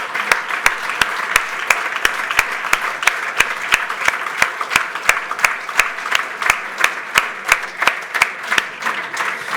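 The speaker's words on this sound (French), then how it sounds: "Applaudissons-les, ils le méritent." A crowd applauds at a software product keynote, a continuous wash of many hands clapping with a few sharper, regularly spaced claps standing out, steady and fairly loud for the whole stretch with no talking.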